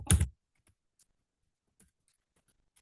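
Computer keyboard keystrokes for copy and paste shortcuts: one loud close clack at the start, then a handful of faint, sparse clicks spread through otherwise near-silence.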